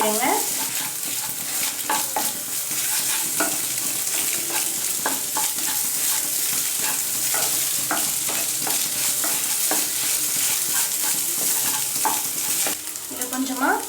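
Broken eggs sizzle and fry steadily in a pan on a gas stove while a utensil stirs and scrapes through them, making a continuous close hiss with intermittent clinks and no talk.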